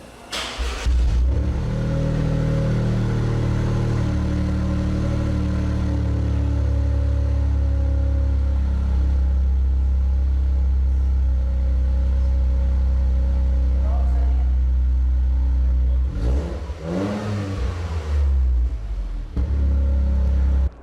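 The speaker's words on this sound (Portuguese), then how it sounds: "Ela tem a função de liberar com mais velocidade os gases de escape e também dar aquele ronco mais encorpado" A Toyota GR Corolla's deep, steady engine rumble drones throughout, with a brief rev swell near the end; the low exhaust growl through its valved sport exhaust stays loud and close.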